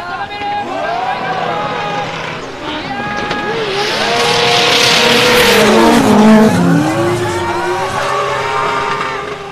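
Drift car engines roar and rise in pitch while tires squeal loudly during a 2019 D1GP drift competition round, including a GR Supra, with an excited commentator talking rapidly in Japanese over the action.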